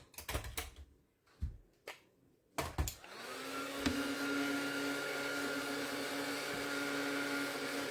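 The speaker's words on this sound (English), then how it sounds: "where's my heat tool?" An embossing heat gun used for art journaling is switched on after a few clicks and handling knocks, then blows as a steady, close whining whir to the end.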